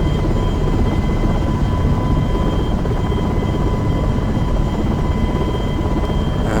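A helicopter in a flight simulator game flies over a large airport, its rotor and engine making a loud, steady, unbroken drone with a faint constant whine, heard alone.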